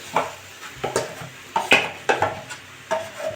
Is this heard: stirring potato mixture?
yes